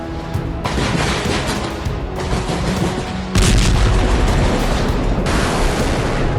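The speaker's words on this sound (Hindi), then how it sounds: "धमाकों का शो" Missile strikes explode in the Russia–Ukraine war, a series of loud, broad blasts and rumbling booms that burst in one after another with no pause between them.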